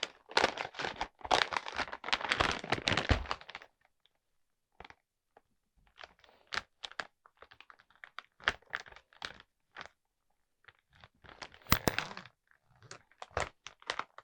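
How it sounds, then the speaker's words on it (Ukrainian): Plastic bags crinkle and rustle while pieces of salted pork fat (belly cut) are packed away, a quiet burst of handling followed by scattered short crackles and pauses, with no talk. "І кожен вид сала я складу в окремий пакет"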